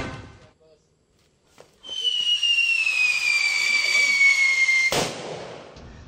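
An illegal fountain-type firework lets out a long, loud, steady whistling shriek for about three seconds, then ends in a sharp, booming blast, heard close and alone.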